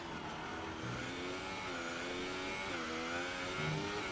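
Race car engine in an Xbox racing game at the German Grand Prix, revving steadily and loudly, its pitch climbing and then dropping as it shifts up through second, third and fourth gear.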